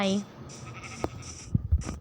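Sheep in the Minecraft video game give short bleats, one at the start and more near the end, close and moderately loud while a person talks over the scene.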